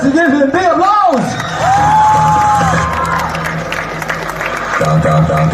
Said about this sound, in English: Let's give him big applause.